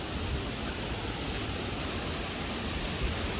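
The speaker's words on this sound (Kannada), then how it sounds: "ಸೊ ಜೋರು ನೀರು ಫೋರ್ಸ್ ಬರ್ತಾ ಇದೆ ನೋಡಿ ಮೇಲಿಂದ." Water pours down Marmala waterfall in a steady, dense roar that stays constant and fairly loud throughout, with no voices over it.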